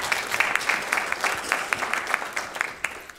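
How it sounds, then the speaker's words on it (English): A small, fairly faint round of applause at a business overview presentation, with scattered individual claps rising and falling unevenly over a few seconds. "Big round of applause for that."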